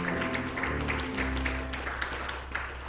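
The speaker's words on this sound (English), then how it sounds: "Give the Lord one more hand clap of praise." A church congregation claps their hands in praise during a live-streamed service, a steady wash of applause over a sustained low musical drone, fairly loud and continuous throughout.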